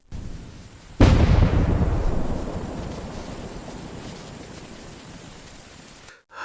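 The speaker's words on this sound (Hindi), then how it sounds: "अरे बाप रे, इतनी तेज हवा!" A strong wind storm sound effect roars in with a sudden loud burst, then a dense, steady rushing noise gradually fades over several seconds before cutting out.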